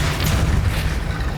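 The Depulso force-push spell cast in Hogwarts Legacy, a loud, dense low boom with a brief rumbling burst filling the whole moment, alone without talk.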